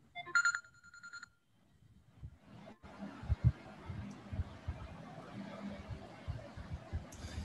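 A phone ringtone chimes in bright, repeated tones for about a second at the start of an online webinar on homoeopathic pharmacy. It goes quiet, then someone talks steadily in Hindi through the rest.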